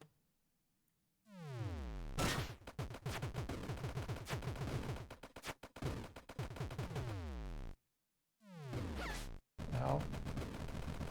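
Rapid bursts of video game gunfire from a weapon called the Nimbus, loud sustained automatic shots with sweeping electronic tones, broken by brief silent gaps and a short final burst.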